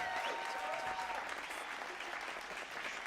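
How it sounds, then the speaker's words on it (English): Sustained applause from a graduation ceremony audience for a college of education, steady and dense throughout with some crowd noise mixed in. "A big applause or cheer or whatever you can do to show your appreciation for their effort"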